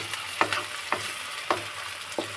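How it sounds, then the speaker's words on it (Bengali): Chopped tomatoes and green chillies frying in a pan on high flame, a soft continuous sizzle broken by four evenly spaced scrapes of a stirring spoon, fairly quiet and close. "এগুলো একটু টমেটোগুলো একটু ভালো করে ফ্রাই করে নেবেন যাতে একদম পুরো গলে যায়।"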